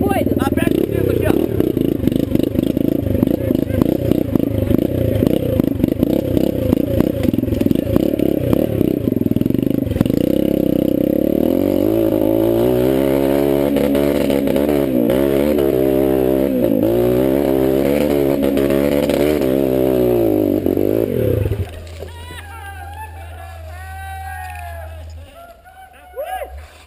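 A motorcycle engine labors loudly on a climb, stuttering and uneven at first, then rising in a strained drone before cutting out abruptly, leaving clattering and a few voices at the end.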